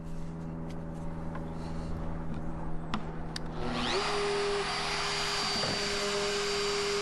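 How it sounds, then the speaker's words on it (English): A router shaping cut wood for a garden arbor: steady low motor hum at first, then a louder high-pitched whine that starts about four seconds in and holds through the end, close and continuous with no talk. "I'm going to shape it with a router."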